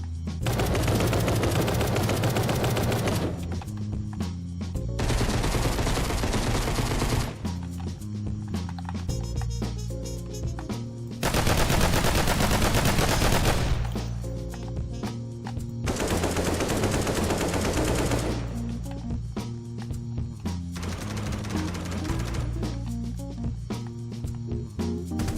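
Service rifle and assault rifles in a video game fire repeatedly into a wall, in loud bursts of rapid shots with short pauses between, over a steady tonal background.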